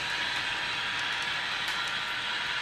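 Model railroad cars roll steadily across the track on a layout, giving a continuous close rattling hum with faint clicks and no voices.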